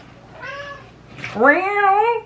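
A cat meows twice, a short mew followed by a longer, louder rising meow, close by in a quiet room.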